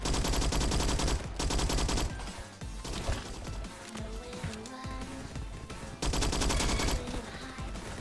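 Skorpion submachine gun in Roblox Bad Business firing in loud, dense automatic bursts, with short pauses between strings of shots and game effects in the background.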